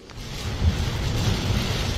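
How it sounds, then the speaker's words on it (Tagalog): A continuous rush of heavy typhoon rain with a deep low rumble beneath it, steady and fairly loud throughout. "Malakas din ang ulan sa Kamalanyugan"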